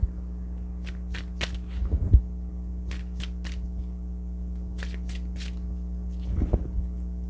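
Tarot cards are shuffled by hand during a card reading, several quick riffling bursts in clusters over a steady electrical hum, close and fairly quiet, with no talk.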